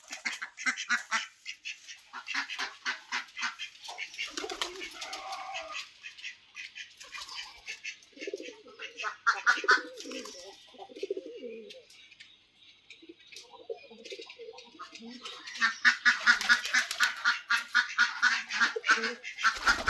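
Ducks quack loudly in rapid, overlapping bursts at the start and end, with a quieter stretch of scattered calls and voices in between.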